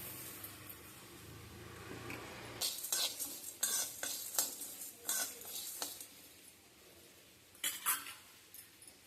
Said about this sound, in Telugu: శనగపప్పు, మినపప్పు, కందిపప్పు, తర్వాత మెంతులు అవన్నీ కొంచెం వేగేవి